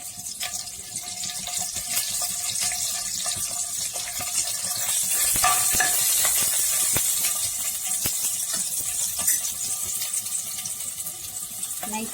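Green chillies sizzling in a spoonful of hot oil in a pan, a steady hissing crackle with small pops running throughout, fairly close and unbroken, with no talking.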